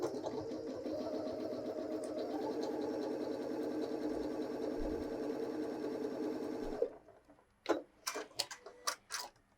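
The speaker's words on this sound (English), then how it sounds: "Stitch a couple inches of basic zigzag for me." A Janome 6700P sewing machine stitches a couple inches of basic zigzag in one loud, steady run for most of the stretch, then stops abruptly, followed by a few short, sharp knocks and clicks.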